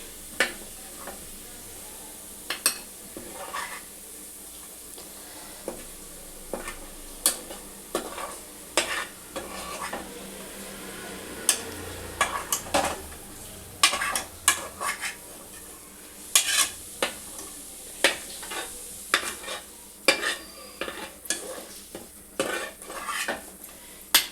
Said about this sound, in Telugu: ఇప్పుడు ఇదే ఆయిల్ వేసుకొని ఇది మనం మంచిగా ఫ్రై చేసుకోవాలి